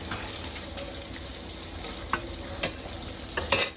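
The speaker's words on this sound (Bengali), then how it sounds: "এখানে হচ্ছে আমি রান্নার জন্য মশলাটা কষাই নিচ্ছি" A steady hiss and sizzle from spices sautéing in a pan for bottle gourd curry, with occasional clinks and scrapes of stirring, continuous and moderately close, without speech.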